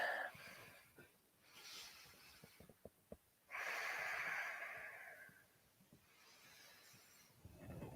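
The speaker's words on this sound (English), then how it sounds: "Breathe deep." Slow, deep breaths during a squat stretching class, each long inhale and exhale soft and close, with quiet gaps between them.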